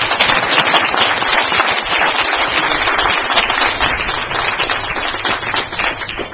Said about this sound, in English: Let's have a round of applause for Richard Israel.